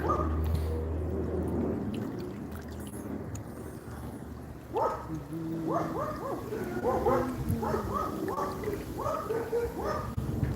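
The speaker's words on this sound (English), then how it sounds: "There's dogs next door barking." Several dogs bark next door in quick repeated bursts at a moderate distance, heard from a poolside, layered over outdoor ambience and low murmuring.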